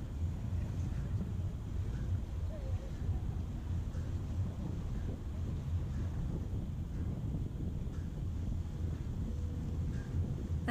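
Copenhagen harbour bus boat moving on the water, heard as a steady low engine and water rumble with constant wind buffeting the microphone, no talk.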